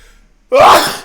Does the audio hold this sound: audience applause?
no